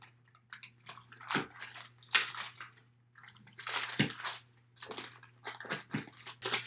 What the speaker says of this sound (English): I'm just gonna use a pizza cutter and I'm just gonna lightly cut through these partially cooked crackers.